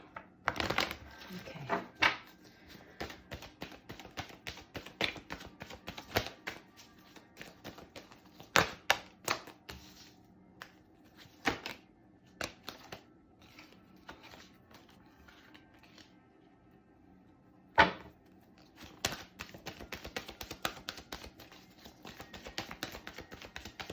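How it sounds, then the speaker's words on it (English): Cards are shuffled repeatedly in crisp riffling bursts with pauses between, and a voice speaks briefly once. "I do like to take my time to shuffle and get the cards"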